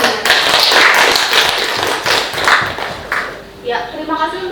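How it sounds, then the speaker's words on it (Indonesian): Hands clap together at a school talk show for extracurricular leadership candidates, loud uneven bursts of clapping near the listener, followed by a voice beginning to speak as the clapping fades. "Tepuk tangan semuanya."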